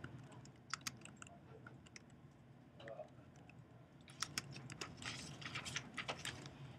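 Light typing on a computer keyboard, faint scattered clicks that grow into a brief flurry of keystrokes near the end, quiet and close.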